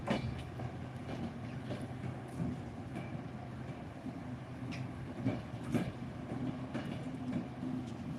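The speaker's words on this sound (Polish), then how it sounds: "tutaj jest kolejka taka pociągowa" Train rolling along rails with a continuous low rumble and scattered metallic clicks and knocks, moderately close and steady throughout, with no voices.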